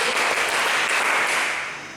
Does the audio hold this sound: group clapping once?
yes